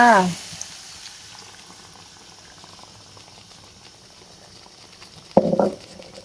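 Catfish and basil stir-fry bubbling in a pan after water is added, a soft steady simmer that starts with a brief sizzle and ends with a louder burst of clatter and voices.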